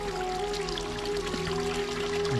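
Spring water flows out of mountain rock in a steady, continuous rush with a faint underlying hum and no voices.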